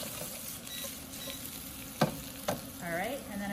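Sausage browning in a frying pan, a quiet continuous sizzle broken by two sharp utensil scrapes and a short squeak near the end, no one speaking.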